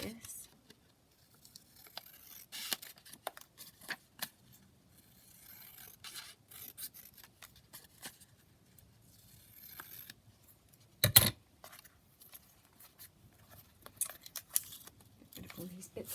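Paper being snipped with scissors while cutting a page out of an altered book for a junk journal, with intermittent close cuts, rustling and handling noises, one sharp louder burst midway.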